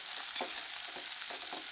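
Steady sizzling of onions, ginger and garlic frying in a pan, with soft stirring scrapes every so often, close and continuous, no voices.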